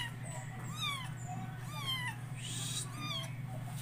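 A domestic cat meows several times in a row, each call rising and falling, close by over a steady low electrical hum, with no talking.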